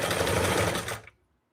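A Singer 328K sewing machine stitches a zigzag seam with a fast, loud, close mechanical chatter that runs for about a second and then stops abruptly.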